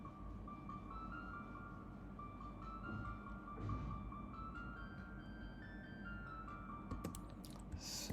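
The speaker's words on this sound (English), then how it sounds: "The bare bones melody MIDI without anything changed sounds like this." A bare MIDI melody on an Omnisphere synth in FL Studio plays a steady run of sustained, chime-like tones over a dense low pad, quiet and continuous, with a few clicky accents near the end.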